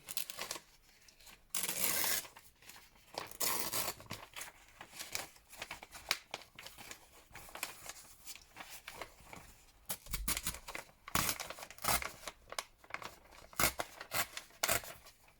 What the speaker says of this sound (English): And then we need to tear it about there.